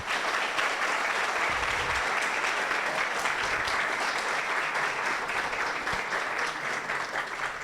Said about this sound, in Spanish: Por favor, un aplauso para nuestros invitados.